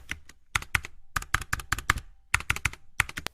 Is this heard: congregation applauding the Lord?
no